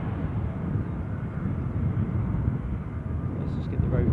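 An airliner rotating and lifting off at Edinburgh Airport produces a constant, heavy jet-engine roar that stays even and fairly close for the whole stretch.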